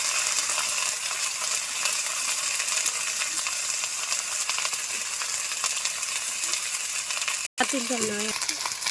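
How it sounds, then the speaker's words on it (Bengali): Ginger-garlic and cumin paste frying in a pan for a chicken dish, a continuous hissing sizzle held close and steady, ending with a sharp metallic clink and brief rattle near the end. "মশলাটা কষিয়ে নিচ্ছে"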